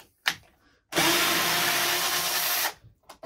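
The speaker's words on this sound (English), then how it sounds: "you got 6 screws on this back plate, and we need to get those off" A power drill backs a screw out of the back plate of a Marshall DSL40CR amplifier, one loud close whirring burst of under two seconds framed by brief handling clicks.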